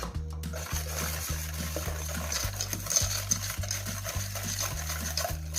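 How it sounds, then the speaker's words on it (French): Egg yolks, sugar and cornstarch are whisked together in a bowl for a custard, giving a steady, rhythmic churning with repeated low pulsing beats and light clinking throughout, close up and with no talking. "je vais rajouter 20 g de maïzena. Et je remélange le tout."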